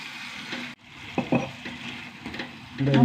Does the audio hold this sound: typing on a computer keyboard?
no